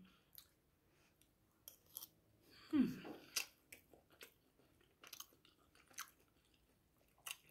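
Crunchy bites of fresh radish being chewed close up, a burst of crisp crunching followed by softer intermittent chewing and mouth sounds.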